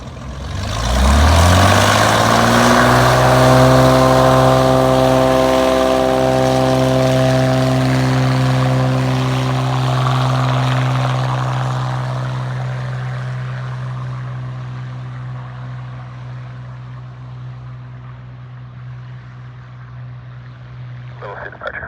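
A floatplane taking off from the water at Lake Hood, a loud propeller engine throttling up to a droning full-power roar with a strong low hum, then slowly fading as it climbs away.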